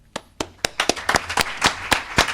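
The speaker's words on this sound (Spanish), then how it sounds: "podamos dar un aplauso a los 18 marineros que" Sparse, uneven claps at a conference as an audience begins applauding the 18 returning sailors, individual sharp hits spaced irregularly rather than a full ovation.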